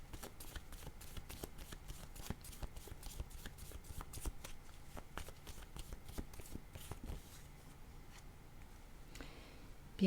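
Picture cards for a card reading get shuffled by hand in a quick, crisp run of repeated riffles and flicks that stays close and fairly quiet, then eases off near the end.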